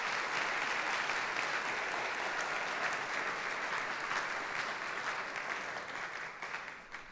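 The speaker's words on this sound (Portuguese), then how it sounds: "Uma salva de palmas para esses voluntários, por favor." A church congregation applauds volunteers with sustained, dense clapping from a large crowd, even and continuous before easing slightly at the end.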